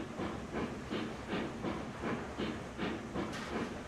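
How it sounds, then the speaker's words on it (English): A locomotive running on track in a train video game, a steady rumbling roar with a rhythmic pulsing chug, hissing steam and clattering wheels, faint and continuous. "This locomotive hates turns like that."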